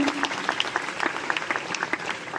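An audience in Kennedy hall applauds at an entrepreneur workshop, a fairly quiet, brisk spatter of many handclaps in irregular rhythm lasting a couple of seconds, slightly distant.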